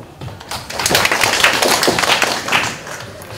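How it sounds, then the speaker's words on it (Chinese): An audience at a tech conference talk claps to welcome a speaker, a dense burst of applause that swells in the middle and then tapers off. "那就请大家掌声欢迎第二位讲者"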